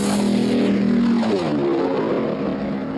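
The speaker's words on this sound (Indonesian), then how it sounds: "sampai suatu sore mereka mendengar suara pesawat di langit" A Japanese airplane circles over an island, a steady, loud propeller-engine drone with a low hum that holds, then slowly shifts in pitch as it passes overhead.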